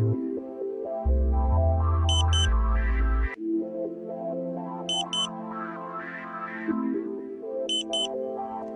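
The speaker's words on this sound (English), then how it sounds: "You hear the ambulance tone again, and then the locking tone." A satellite internet modem emits alignment tones during dish setup: a warbling siren-like pattern of rising and falling beeps, interrupted by short, high, doubled pips that repeat several times, loud and clear with no talk.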